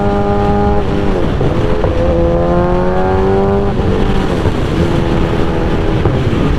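A 2008 Suzuki GSX-R 1000 engine runs steadily at low RPM in sixth gear while riding, a loud continuous drone with shifting pitch and wind rumble, no talking.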